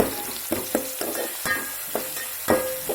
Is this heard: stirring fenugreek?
yes